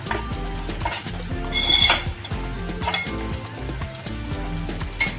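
A spoon scrapes and clinks against a pan while mixing homemade spice masala with garam masala and asafoetida, making close, repeated metallic taps and rattles that run throughout without a break.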